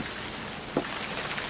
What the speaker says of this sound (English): It's raining. I'm gonna get wet.